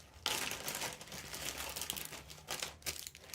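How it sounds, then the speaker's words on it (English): Plastic wrapping is torn and opened on a box of craft supplies, with close, crisp crinkling and rustling that comes in irregular bursts and stays fairly quiet throughout. "Got some plastic here to open up."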